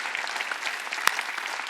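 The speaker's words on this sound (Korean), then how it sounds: "깨달은 사람만 박수." A church congregation at a Wednesday service claps together in a brief, dense burst of applause, fairly loud and even, heard alone without any voice over it.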